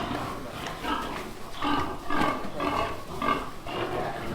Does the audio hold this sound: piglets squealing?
yes